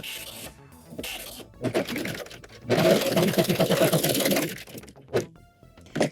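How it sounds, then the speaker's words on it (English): A serger stitches swimsuit fabric and elastic at an angle, its motor whirring in short bursts and one long continuous run, with brief pauses and a clunk between them. "And then we are going to serge on an angle."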